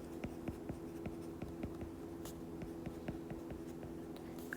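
Pen or marker writing notes during a math lesson on right triangles, a faint steady series of short scratchy strokes close by, with no talk.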